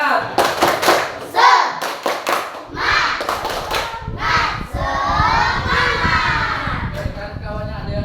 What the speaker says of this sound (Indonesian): Biar semangat, kita tepuk semangat dulu. Tepuk semangat.